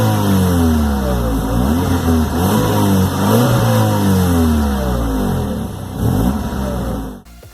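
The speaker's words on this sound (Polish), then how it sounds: "ponieważ wysłał on dźwięk silnika" Car engine revving loudly outside a town, with repeated rising and falling pitch sweeps as the throttle is blipped, close and alone, cutting off abruptly at the end.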